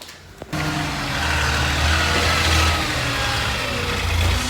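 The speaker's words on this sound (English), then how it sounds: "There's a big old truck out front delivering stuff." A big delivery truck idles out front, its low engine rumble starting abruptly and holding steady, with a slight rise in revs partway through.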